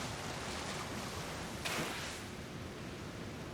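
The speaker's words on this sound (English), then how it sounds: "Is there anything behind this waterfall?" Waterfall in the Pokémon Legends: Arceus video game, a steady, broad hiss of falling water that holds at an even, fairly faint level throughout with a brief swell in the middle and no talk.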